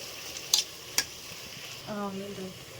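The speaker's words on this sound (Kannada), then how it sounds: "ಟೊಮೊಟೊ ಹಾಕಿದ್ಮೇಲೆ ಚೆನ್ನಾಗಿ ಫ್ರೈ ಆಗಬೇಕು" Tomato and onion fry in oil with a soft, low sizzle, marked by two sharp utensil clinks against the pan and a brief faint tonal sound near the end.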